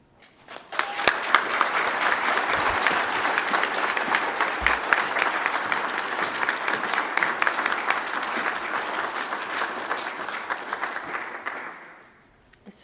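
An audience at a 2021 dental hygiene graduation pinning ceremony breaks into sustained applause, a full steady wash of clapping with a few sharper claps standing out, faint voices underneath, before it fades away near the end.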